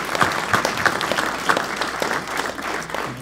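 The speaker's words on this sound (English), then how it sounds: "Round of applause. Congratulations." An audience at a pitch event bursts into steady applause, many hands clapping together in a dense, fairly loud wash that holds its level for a few seconds.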